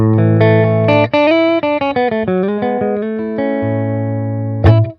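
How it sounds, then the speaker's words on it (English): A clean, dry electric guitar through a Boss Katana 50 amp with no effects, playing sustained notes and a short sliding melodic run, ending in a sharp accent, close and loud. "I've got a nice clean sound. There's no effects on that at all."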